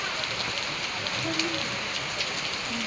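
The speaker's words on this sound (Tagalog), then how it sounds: "Oh, grabe pa lang ulan" Dense, steady heavy rain hissing and pattering loudly on surfaces all around at a hanging bridge, an unbroken wash of sound with a faint voice underneath.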